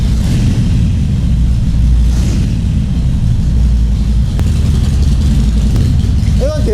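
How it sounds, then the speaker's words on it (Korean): A Harley-Davidson Forty-Eight motorcycle with a drilled stock muffler idles loudly, a deep steady rumbling throb close by, with faint sounds of people in the background. "아마 머플러가 조금 시끄러울 겁니다. 순정 100인데 이제 조금 구멍을 뚫어놨어요."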